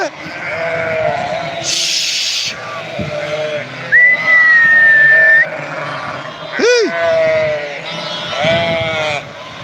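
Lambs bleating in a rural steppe setting, several wavering calls rising and falling close by, mixed with a whistle, a high squeal and people talking over the flock.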